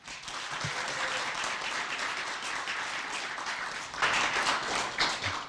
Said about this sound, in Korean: 박수를 많이 쳐주셔서 대단히 감사합니다.